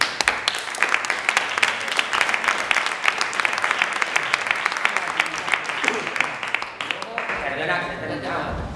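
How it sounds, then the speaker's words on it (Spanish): Audience applause at a gathering, a dense run of individual claps close and loud, thinning out toward the end as a voice begins to speak. "Un aplauso"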